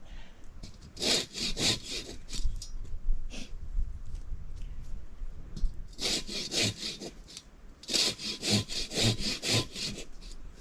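A Katanaboy hand saw rasps through wood in steady back-and-forth strokes during trail clearing, close up, with faster rhythmic bursts of strokes toward the end.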